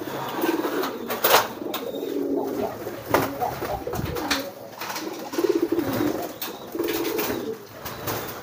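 A male pigeon coos repeatedly while pushing his hen toward the nest, giving close, throaty rolling calls in rhythmic bouts with faint wing and cage noise between them.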